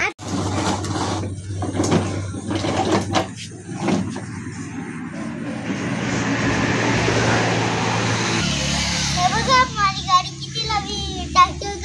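A double-decker vehicle pulling away, a low engine rumble and rising whoosh building through the middle, mixed with children's and adults' chatter and clatter nearby.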